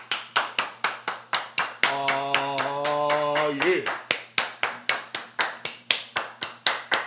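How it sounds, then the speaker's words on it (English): Rhythmic hand claps land on a steady beat, sharp and evenly spaced, pausing briefly while a voice sings a sustained phrase, then resuming in time. "Everybody clap your hands."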